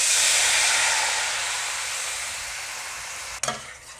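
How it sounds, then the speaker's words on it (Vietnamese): Sauce poured into a hot pan of ribs bursts into a loud, bright sizzling hiss that slowly fades, followed by a brief clatter near the end. "Tiếp theo các bạn đổ nước sốt mà chúng ta vừa làm."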